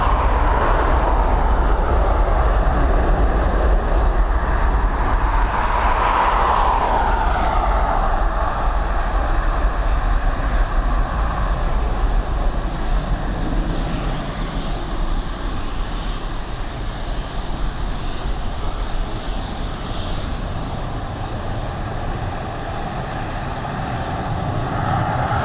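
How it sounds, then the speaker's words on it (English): A Boeing 737 departing Dublin Airport's runway 10R for Asturias, a steady broad jet engine roar held loud for the whole stretch, swelling slightly then easing as it climbs away. "this Boeing 737 heading over to Asturias in"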